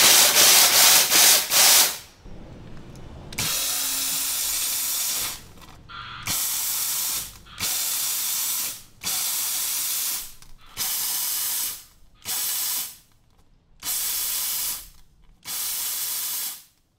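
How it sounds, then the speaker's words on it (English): Powerful bursts of steam hissing out of an Aqua Pro steam cleaner in repeated blasts, each lasting about a second or two with short pauses between, loud and close. "I was flabbergasted at how strong the steam was coming out of"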